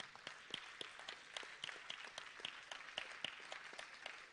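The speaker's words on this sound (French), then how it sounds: "Acclamez pour le Seigneur" A church congregation clapping in rhythm, with sharp, regular claps repeating at a brisk steady beat, fairly faint and roomy, with a light background murmur.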